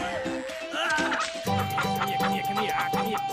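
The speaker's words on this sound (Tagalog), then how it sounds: "Philippines native chicken." A Philippine native chicken calls loudly up close, a series of harsh, warbling fowl cries. Music plays underneath and a voice is briefly heard.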